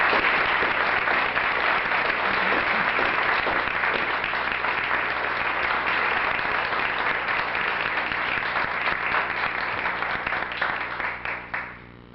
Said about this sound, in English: please give a warm round of applause to Yvonne Martin